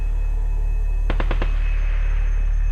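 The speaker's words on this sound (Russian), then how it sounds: "Это были выстрелы?" Distant gunshots, a quick cluster of four sharp reports about a second apart, ring out over a steady low electrical hum in an otherwise quiet indoor space.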